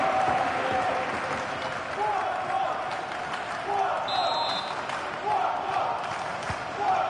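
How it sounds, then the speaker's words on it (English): In the football video game FC26, a stadium crowd cheers and claps in a steady roar, with scattered whistles and swelling bursts of noise close around the pitch. "just listen to this crowd"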